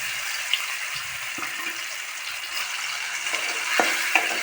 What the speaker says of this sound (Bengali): মশলা ভাজা হচ্ছে দেখুন